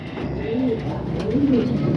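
Racing pigeons in a loft coo softly, two low rolling coos about a second apart, close and alone over a steady background hum.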